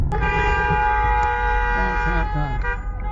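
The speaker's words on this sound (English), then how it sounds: "I flashed my lights, honked my horn, and they allowed us to go through." A sustained car horn blares loudly for several seconds over engine rumble, with a voice briefly talking underneath toward the end, as a vehicle rushes an injured person to hospital after the Las Vegas mass shooting.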